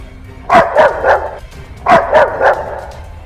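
A big dog barking while chasing, two bursts of three loud, close barks each separated by a short pause.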